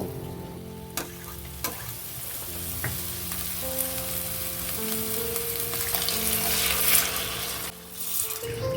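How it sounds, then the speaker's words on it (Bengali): Washed mung dal frying in oil with dried chilli and cumin sizzles softly in a pan, with a few clinks of stirring and a building hiss toward the end, alone and fairly quiet. "ধুয়ে রাখা মুগ ডালটা তেলের মধ্যে দিয়ে দেব হালকা লালচে করে মুগ ডালটা ভেজে নেব"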